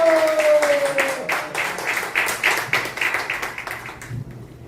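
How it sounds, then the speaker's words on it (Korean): An audience claps together in a brisk, steady patter that gradually thins out and fades near the end, welcoming a pastor to speak at a church lecture on North Korea missions. "우리 박수로 모시겠습니다"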